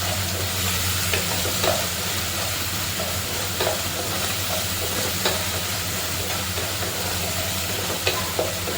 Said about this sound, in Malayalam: ഇഞ്ചി ചതച്ച് വെച്ചിട്ടുണ്ട്. അതിട്ട് കൊടുക്കുക. ഒന്ന് നല്ലതായിട്ട് ഇളക്കി കൊടുക്കണം.